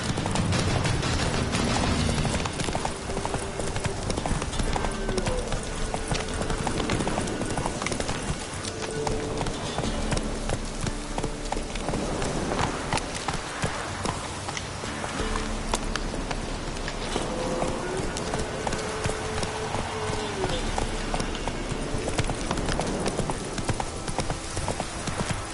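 The horse Roach gallops steadily in The Witcher 3: Wild Hunt, a dense, continuous rhythm of loud clip-clopping hooves that fills the whole stretch, with faint game sounds beneath.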